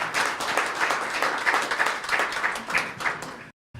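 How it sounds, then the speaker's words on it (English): A crowd applauds continuously, dense and steady claps filling the room for a few seconds before cutting off abruptly. "one more round of applause with that in mind"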